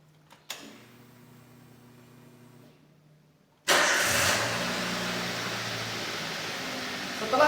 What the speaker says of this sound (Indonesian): Berikutnya engine kita nyalakan.